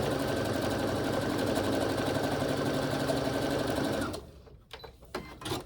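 A sewing machine stitches quilt pieces in a steady, fast mechanical whirr for about four seconds, then stops. Handling noises and a few soft clicks follow.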